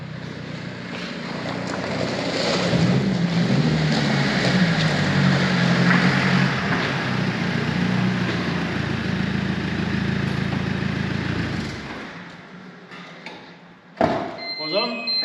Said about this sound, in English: This will be the last time the cabby's under diesel power